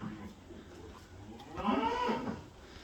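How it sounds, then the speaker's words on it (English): Cows mooing inside a barn while they eat, one drawn-out moo rising over quiet background shuffling and faint feeding noise, moderately close but fairly soft. "Cows in here eating."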